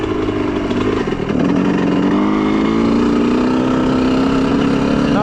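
Honda CR125R two-stroke motocross bike engine ridden on sandy ground, loud and close, a steady high buzzing drone whose pitch climbs slowly as the rider holds and builds throttle, with no speech over it.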